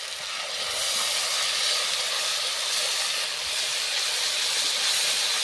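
Tomato gravy hits a hot pan while cooking begun radharani, a vegetarian Bengali eggplant dish, giving a loud, steady sizzle that holds evenly for several seconds with no voices.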